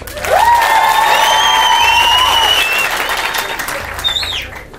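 Applause and cheering from the studio audience of the Ethiopian singing contest Yemaleda Kokeboch, steady clapping that swells in, holds and tapers off, overlaid with long whistles and a high shout near the end.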